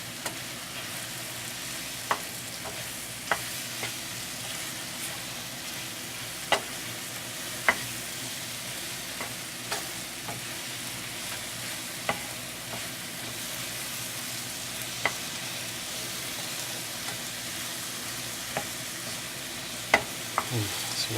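Mushrooms sauté in a Teflon pan as a wooden spoon stirs them, giving a steady, soft sizzle with scattered light taps and scrapes from the spoon throughout.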